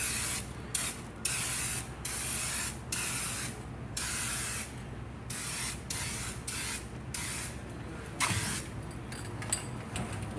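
An aerosol can sprays black paint onto a hotshot rig in bursts of hissing spray, several separated by short pauses with faint rattling in between.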